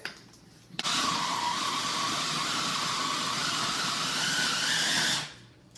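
A food processor runs for several seconds mixing ingredients, a loud steady whirring drone that starts abruptly and cuts off just as suddenly, with quiet room sound on either side.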